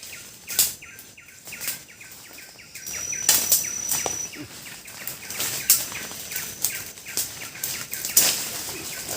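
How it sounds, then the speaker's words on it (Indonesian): Birds flap their wings and call in a lively, noisy flock near a river in rainy forest, with repeated close wingbeats and chirps over a steady background hiss. "Kayak burung, Pak. Ini heboh."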